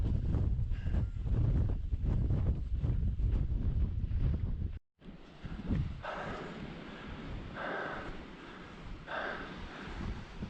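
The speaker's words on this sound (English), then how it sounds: "This wind is blowing all around too." Strong mountain wind on the Quilotoa Loop hike in Ecuador buffets the microphone in heavy low roaring gusts, briefly cutting out, then continuing as softer rushing wind.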